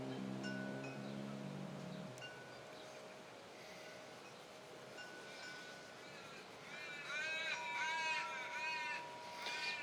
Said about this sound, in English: the sound of the crows and the wind chime